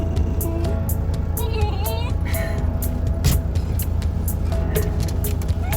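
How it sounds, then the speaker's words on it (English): Car traffic in a traffic jam in Geraldton, Western Australia, heard as a steady close road rumble with passing engine noise and scattered short tonal sounds and clicks throughout. "Traffic jam here in Geraldton."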